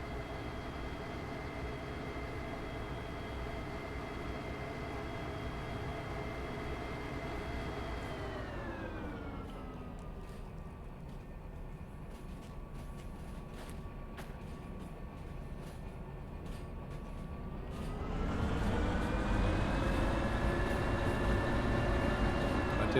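Train running in Derail Valley, a steady rumbling drone with sustained tonal hums whose pitch drops as it slows, then rises and grows louder again near the end, with faint clicks along the way.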